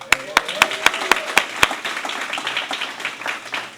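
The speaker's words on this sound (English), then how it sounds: "So extend some hand claps for that." Hand clapping from a small group at a launch ceremony, sharp separate claps at first that soften into scattered applause, with murmured talk in the background.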